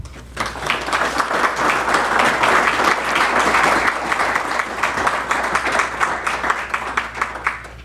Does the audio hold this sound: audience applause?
yes